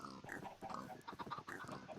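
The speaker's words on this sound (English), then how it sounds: "I have loads of pigs." Pigs in Minecraft give a quick series of short, nasal oinks and grunts in close succession, fairly quiet and close.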